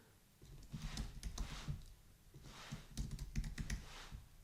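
Fast bursts of typing on a computer keyboard as an email address is entered, crisp close clicks in two quick clusters separated by a short pause.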